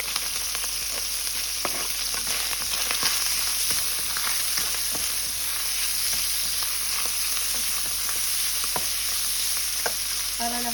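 Hotdog slices fry in a pan for yakisoba, giving a steady, bright sizzle with scattered clinks and scrapes from stirring, close and continuous, with nobody speaking.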